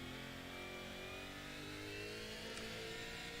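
A touring race car engine revs hard during an ATCC round at Newcastle, a sustained high-pitched wail holding near the top of its range, heard as broadcast audio with no talk.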